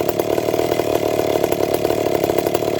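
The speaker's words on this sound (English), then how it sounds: "Make sure this saw idles." A ported McCulloch Pro Mac 850 chainsaw idling in -35°C cold, a loud, close, steady buzzing putter with a rapid, even pulse and no speech.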